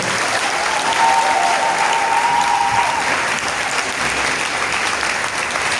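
A church congregation applauds in a steady, loud burst of clapping that fills the room, with a brief faint sustained tone partway through and no clear talk.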